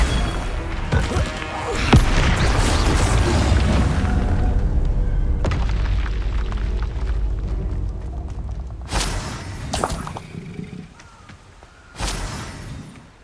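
A Confringo fire-blast spell from the Hogwarts Legacy game goes off in loud booming explosions: a heavy crashing burst near the start, a rumbling tail, then sharper blasts and impacts later, with no talking.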